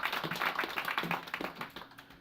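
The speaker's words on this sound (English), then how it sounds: "Alfie Ruffle, give Alfie a big round of applause, please." An audience applauds fintech founder Alfie Ruffle at a university event, a brief burst of many hands clapping that fades out within a couple of seconds.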